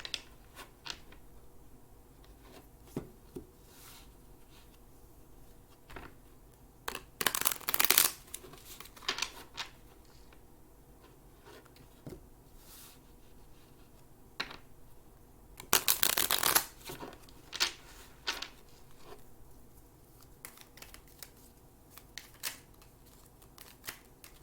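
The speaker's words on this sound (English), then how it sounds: "I just want to do a little this, cut the deck, and pull from the top." A tarot card deck handled and cut, with soft scattered clicks and taps broken by two brisk, louder riffling bursts, close and quiet overall.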